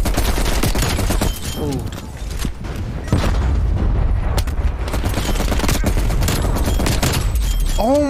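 Sustained automatic fire from an M60 machine gun in Call of Duty: Cold War, loud and dense bursts with booming impacts throughout, a man briefly exclaiming over the shooting.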